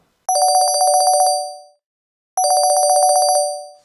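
A telephone rings in two clear, loud bursts of rapid electronic trilling, each lasting about a second and a half, with a pause between them and no voices, as a call is being connected.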